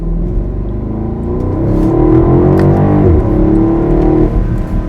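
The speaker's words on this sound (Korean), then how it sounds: "4000rpm 정도에서 들려지는 이 소리, 구르구르릉 하고 팝콘까지 마무리를 해주는 까랑까랑한 맛이 굉장히 훌륭합니다" BMW X7 M50i SUV with a V8 engine holding a loud, deep rev of about 4000 rpm, a steady growling rumble that swells and then falls back, with no talking.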